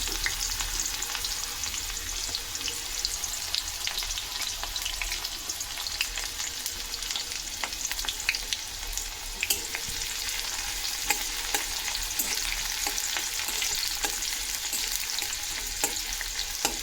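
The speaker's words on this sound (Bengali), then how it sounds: "কুচানো পেঁয়াজ, একটা কুচানো পেঁয়াজ আমি এখানে দিচ্ছি।" Chopped onion frying in hot oil with black cumin, a steady broadband sizzle with scattered crackles and pops running throughout, fairly close and even, no voices.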